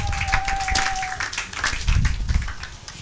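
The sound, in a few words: congregation applauding in church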